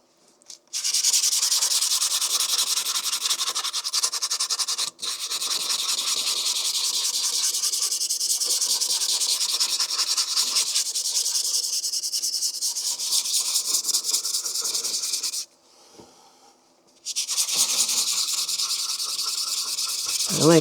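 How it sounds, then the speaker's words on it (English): Wet sanding of a 3D print smoothed with UV resin and baby powder, a steady, close, continuous rasping rub that runs nearly unbroken, with one brief pause near the end. "I like to wet sand more than anything just because it keeps the dust down."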